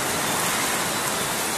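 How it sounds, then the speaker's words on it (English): Heavy rain pours down steadily at night in St. Lucia, a dense, even hiss running loud and unbroken with no voices. "the rain is coming down very heavily"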